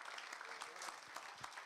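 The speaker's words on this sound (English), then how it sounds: "Give the Lord a hand clap of praise." Church congregation clapping hands in praise during a family day service, a faint, dense wash of many hands heard at a distance, steady throughout with no talking.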